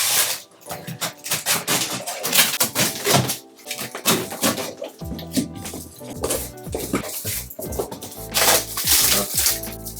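A Fiido X folding electric bike being unboxed: continuous crinkling, rustling and clattering of packaging and parts being handled close by, in irregular bursts.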